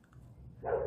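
A dog gives a single short bark at the end, fairly faint and slightly distant, after a moment of quiet indoor room tone.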